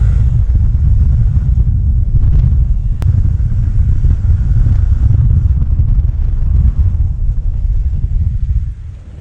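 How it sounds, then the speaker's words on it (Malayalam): Hero Xpulse 200 4V motorcycle engine fitted with a quick throttle, giving a steady loud low rumble close by with wind buffeting the microphone, tapering off near the end; individual blips are not distinct. "കണ്ട എന്ത് പെട്ടെന്ന് ബ്ലിപ്പ് ചെയ്യാൻ പറ്റിയെന്ന്."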